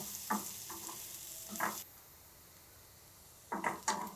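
Onion and garlic fry gently in a pan with a faint background sizzle, broken by a few short scraping stirs and knocks of a utensil, quiet and close.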